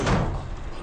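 A door moves in a horror-comedy film scene, a single loud, close burst of noisy grinding that quickly fades into a softer rasping tail.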